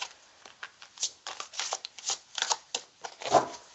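Tarot cards shuffled in quick papery flurries of rustling and slapping, close up and moderately loud, with no talking.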